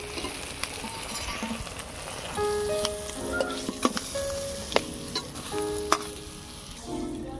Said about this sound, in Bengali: আবারও বাকি মাছগুলো ভেজে নেব